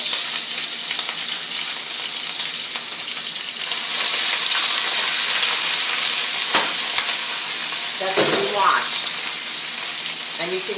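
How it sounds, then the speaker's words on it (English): Loud, crackling sizzle of poorly drained fresh spinach frying in a hot pan, with spitting splashes and stirring clatter, continuous and close, plus a brief voice near the end. "you can hear that I didn't drain it too well because it's splashing all over"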